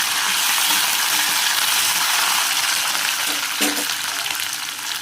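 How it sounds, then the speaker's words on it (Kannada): Green chillies and curry leaves sizzle loudly in hot oil for garlic lemon rice, a steady broadband frying hiss running the whole time with a brief crackle burst near the end; no talking. "ಕರಿಬೇವು ಹಾಕ್ತಾಯಿದ್ದೀನಿ."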